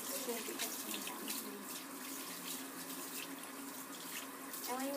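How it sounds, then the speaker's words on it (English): Hands are rinsed under a running tap at a sink. Water flows steadily and close by, with splashing that shifts slightly as the hands move through the stream. "when you rinse your hands, you want to make sure your fingertips are down, so that way the germs wash down the sink"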